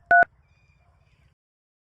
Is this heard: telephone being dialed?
yes